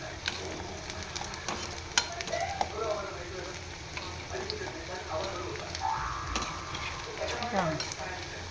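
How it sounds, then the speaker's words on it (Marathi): Green beans sautéing in hot oil in a pan, a steady soft sizzle and frying hiss with occasional stirring scrapes and clinks, moderately close and continuous with no talk. "आता हे बीन्स घालून घेतलं, छान ते तेलावर परतली पण जाईल आणि शिजेल पण"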